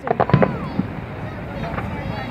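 Fireworks burst over a 2017 river festival: a quick cluster of sharp, crackling pops opens the sequence, then fades into a softer rumbling tail while people talk nearby.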